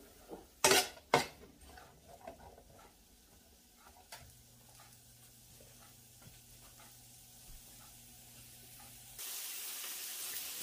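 Cubed onions fry in an Instant Pot while rajma is being made. A few loud utensil clanks open the scene, then a quiet, steady sizzle continues and swells near the end, with no voices.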